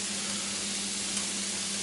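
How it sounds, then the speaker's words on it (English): Salisbury steak patties frying in a pan give a steady, even sizzle with a low hum beneath, moderately loud and constant, with no talking. "we're going to let those cook till they're brown on both sides"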